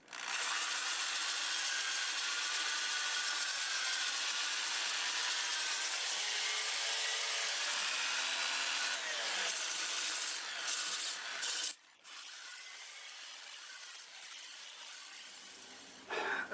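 Abrasive paper hisses steadily against a wooden bowl spinning on a lathe at about 400 RPM, a continuous dry rubbing that briefly cuts out and resumes slightly softer.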